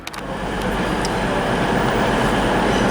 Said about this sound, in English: So we've got this Trans-Pennine coming in.